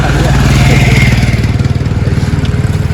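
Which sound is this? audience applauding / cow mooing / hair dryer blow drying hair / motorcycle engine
motorcycle engine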